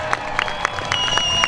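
A crowd cheers, whoops and claps at a live outdoor show in Kingston, Rhode Island, a dense, steady roar of many voices with scattered sharp claps and a faint tonal hum running underneath.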